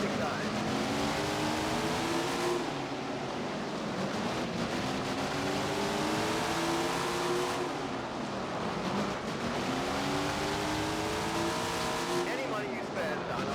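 Sprint car engines roar continuously in Tony Stewart's Sprint Car Racing, a loud, steady pack of racing motors rising and falling in pitch as they pass and accelerate at the start of the A main, with no talking.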